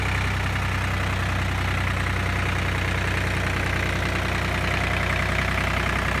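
A small FarmTrac 35 tractor diesel engine idles nearby with a steady low rumble and knocking chug, continuous and unchanging with no voices.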